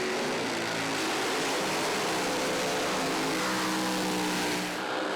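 A drag racing car launches in a final round, a loud, continuous broadband engine roar filling the whole stretch with steady harmonic drone throughout, no voices.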